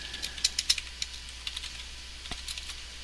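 Keys tapped on a computer keyboard while modding the game Running with Rifles, a quiet irregular run of light clicks with short pauses, a few louder strokes standing out over a faint hiss.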